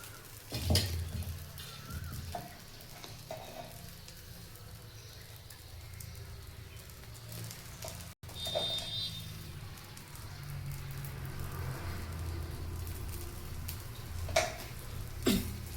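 Dosa batter frying in a little oil on a pan, a steady soft sizzle with low rumbling underneath and occasional scraping knocks, continuous and fairly close.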